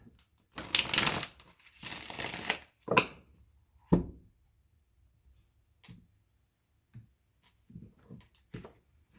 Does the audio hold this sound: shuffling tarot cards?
yes